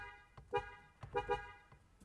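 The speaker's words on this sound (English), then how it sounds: "We're also gonna honk the horn right now" A 2022 Toyota Highlander XSE sounds its horn in a few short, quiet honks, two close together in the middle of a rhythmic burst.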